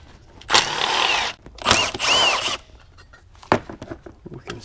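A power tool whirs in two loud bursts, then briefly again, while removing thermostat housing fasteners on a Dodge Ram with a 6.7L Cummins diesel, close up with mechanical clatter between runs.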